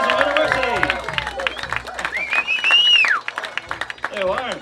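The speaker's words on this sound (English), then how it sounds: "Give them another round of applause." Applause from the audience at a live outdoor piping show in hot weather: clapping and cheering swell around the voice of the announcer on the mic, with crowd babble underneath.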